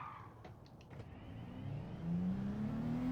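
A Honda NSX slides through a corner on the Daytona Road Course in Gran Turismo 7, its engine note droning and climbing steadily in pitch as it revs, with a few faint clicks early on.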